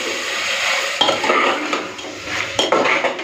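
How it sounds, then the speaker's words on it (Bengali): Mutton is stirred and sautéed in a pressure cooker: a spoon scrapes and clinks against the metal pot under a continuous sizzle of frying, with a few sharper knocks, close and fairly loud, with no talking. "এখন মাংসটা কষে নেব"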